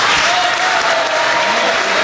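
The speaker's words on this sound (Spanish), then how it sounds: "palmas para Daniel Urresti y algunos gritos aquí en el Salón Dorado" Applause with some shouts fills the Salón Dorado during a government swearing-in ceremony, a steady dense wash of clapping from a large crowd lasting throughout, loud and close.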